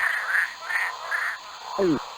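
A frog in the Let's Explore the Jungle video game croaks four times in an even rhythm, close and clear, followed by a brief sliding chirp.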